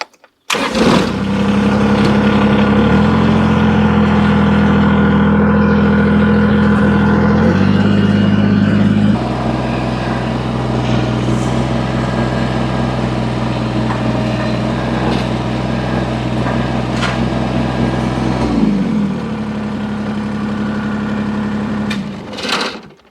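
A tractor engine works loud and close while a grapple moves logs at a sawmill, its steady rumble dipping and rising in pitch as the load changes and revving near the end, with no talk.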